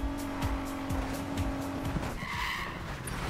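Street-racing car in Need for Speed Payback, engine roaring loud and close with sustained tire squeal and skidding, rising revs and a shifting pitch toward the end.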